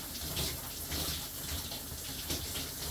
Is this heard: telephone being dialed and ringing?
no